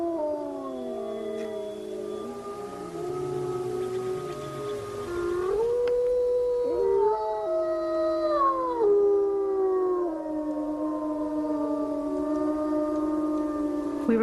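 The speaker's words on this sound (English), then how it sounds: "When the pack leader howls, it's often a signal for the others to gather around him." A pack of North American wolves howls in long, gliding, overlapping calls, several voices rising and falling together, clear and sustained throughout with no talking.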